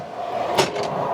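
Drawers in the kitchen storage of a 2007 Pleasure-Way Plateau TS Class B diesel camper van sliding open and shut, a short close clack followed by a softer second rattle over quiet room tone.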